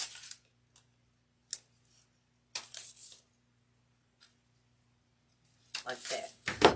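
Scissors snip through artificial flower stems while a grapevine wreath is assembled, giving a few short, close cuts separated by quiet gaps, with a louder cluster of snipping and handling near the end.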